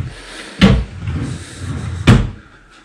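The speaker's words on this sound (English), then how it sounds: "You have these drawers here." Bedroom drawers being opened or shut in a guest bedroom of a home in Tavira, Algarve, Portugal, giving two sharp wooden knocks about a second and a half apart over a faint room hum.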